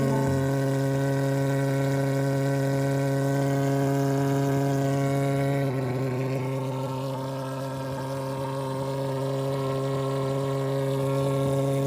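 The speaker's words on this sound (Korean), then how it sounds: "시동 버튼을 누르고 10초가 지나면 예열이 되는데 바로 약제 밸브를 열어주시면 됩니다." A portable mosquito fogger engine running steadily after start-up, a loud continuous droning hum with strong tonal whine that shifts slightly in pitch midway.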